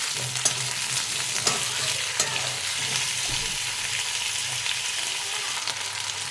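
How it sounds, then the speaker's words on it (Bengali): Sliced potatoes fry with onions in hot oil, a steady close sizzle broken by a few sharp scrapes and clacks as the pan is stirred, with no voices. "আমি কেটে রাখা আলুগুলো দিয়ে দিলাম, দিয়ে ওর সাথে নাড়িয়ে নেব ভালো করে।"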